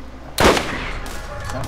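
A single sharp gunshot rings out in the Borderlands video game, loud and close, with a short decaying tail and a faint background hum.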